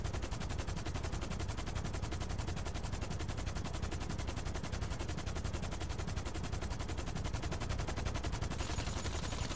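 Gunfire from GTA 5 Online plays as rapid, continuous automatic bursts at a steady loud level throughout, dense and unbroken with no talk over it.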